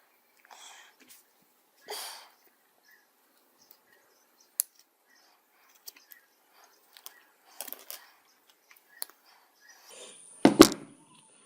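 Scissors snip off the top section of a piece while customizing a WLtoys RC model: a few sparse, sharp cuts and clicks, close and fairly quiet, separated by near-silence.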